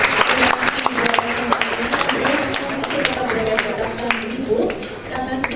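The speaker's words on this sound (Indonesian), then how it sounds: "tepuk tangan untuk kita semuanya" An audience at a university guest lecture on entrepreneurship and innovation in Surabaya claps in a broad, busy wash, with sharp individual claps standing out and a voice talking faintly underneath throughout.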